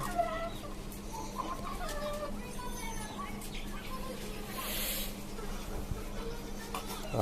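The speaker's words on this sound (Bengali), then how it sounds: "এখানে আমার আরেকটা টাইগার মোরগ আছে" A tiger-breed rooster and chickens cluck softly in a rooftop cage farm, scattered faint calls over a constant low hum and background noise, with a voice in the distance.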